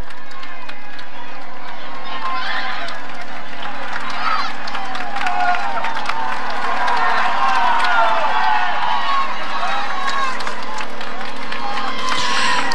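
Roadside crowds at a 2016 Tour de France climb cheer, clap and shout as the leading group of cyclists passes. The loud, swelling din peaks and surges, and a voice talks over the noise.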